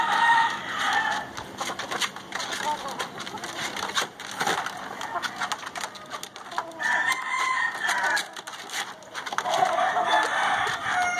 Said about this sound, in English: oh, there's a rooster in front of me